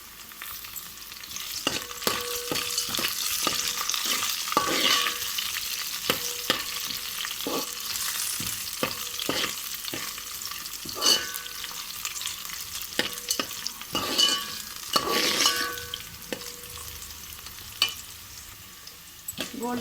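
Vermicelli with curry leaves frying in a pan for semiya upma, a steady crackling sizzle broken by repeated scraping stirs throughout, close and fairly loud with no talking.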